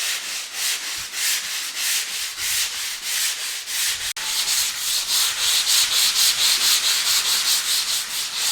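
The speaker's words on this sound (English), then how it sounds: "So we've got a bit of sanding to do now" Steady rhythmic sanding strokes on a plastered wall, loud and close, a continuous abrasive rasp pulsing back and forth with a brief pause midway.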